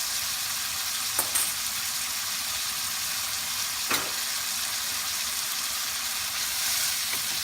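Salmon belly and vegetables sizzle steadily in a hot pan with hoisin sauce, with a couple of brief clinks and stirring touches over the constant frying hiss.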